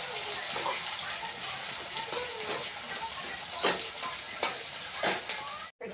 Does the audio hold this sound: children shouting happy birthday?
no